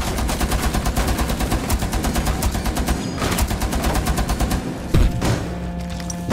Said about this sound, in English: Bro, this gun is mental, mate! The chunker, man! Bro, this is an LMG!